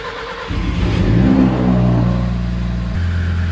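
An Audi RS3 five-cylinder turbo engine fires on its first start after tuning work, rising from a low hum into a loud revving burst that then settles to a steady, close idle.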